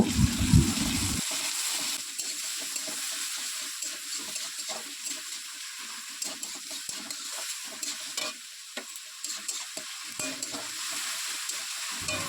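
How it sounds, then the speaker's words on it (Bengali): Chopped onion and green chilli frying in a pan while being stirred, a steady close sizzle with frequent scraping spoon strokes, starting with a louder burst and settling into continuous crackle without any talking. "পেঁয়াজ আর লঙ্কা কুচি দিয়ে পেঁয়াজটাকে ভালো করে আমি নেড়ে নেব"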